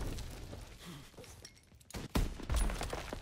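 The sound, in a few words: Lee Enfield rifle gunfire in a video game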